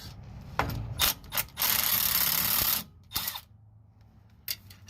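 Ratchet loosening the front drive shaft bolts on a 2002 Chevy Suburban, heard as several close, loud bursts of rapid clicking ratchet strokes separated by short pauses, with no one talking.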